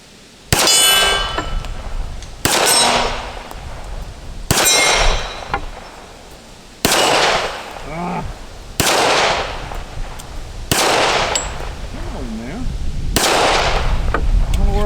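A Remington R1 1911 pistol fires seven loud, evenly spaced shots outdoors, each answered by a ringing clang from steel targets that lingers and fades before the next shot.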